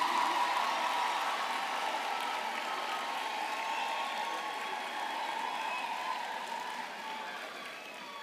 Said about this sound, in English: let's give all of our graduates a wonderful round of applause